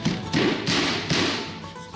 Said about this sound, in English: So let's go ahead and knock this.